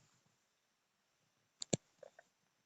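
Two quick, crisp computer mouse clicks followed by a couple of fainter clicks, close and dry against a near-silent background.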